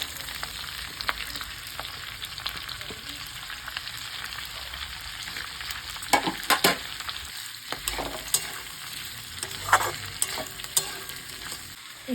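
Chopped spring onions and green chillies fry together in a pan for chili chicken, a continuous close sizzle broken by spatula scrapes and a burst of clattering stirring midway.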